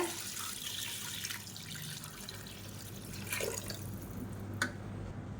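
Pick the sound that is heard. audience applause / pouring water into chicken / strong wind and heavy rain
pouring water into chicken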